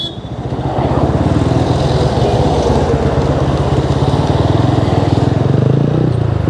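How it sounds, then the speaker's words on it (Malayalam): Vehicle engines sound on a highway service road toward Kannur during road works near Muzhappilangad. A loud, steady, close engine drone with a throbbing pulse continues throughout. "കണ്ണൂർ ഭാഗത്തേക്ക് സർവീസ് റോഡിലൂടെയാണ് വാഹനങ്ങൾ പാസ് ചെയ്യുന്നത്"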